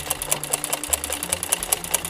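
A sewing machine stitches embroidery at a fast, even pace, its needle clattering in a regular rapid rhythm up close over a low motor drone.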